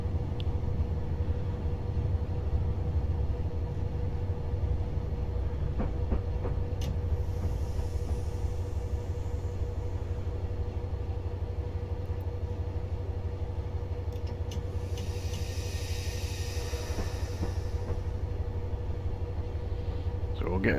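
A Class 57 locomotive braking in the Train Simulator Classic game: a steady, low rolling rumble runs throughout, with brief airy hisses from the brakes, and someone talks over part of it.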